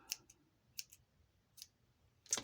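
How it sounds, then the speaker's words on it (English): Dull scissors snipping paper for a junk journal insert, four quiet crisp snips spaced unevenly over a couple of seconds, close but faint, with the last one sharpest. "use scissors."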